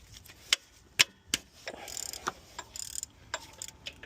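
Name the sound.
electric ratchet with socket on Dodge Dakota alternator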